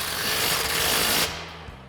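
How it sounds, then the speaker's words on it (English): A close impact wrench with a 15mm socket and extension rattles hard as it tightens a nut on a Camaro coil-over shock, then cuts off abruptly, leaving a faint tick or two. "Now we'll go ahead and tighten this back down again with our 15mm socket and extension on our impact."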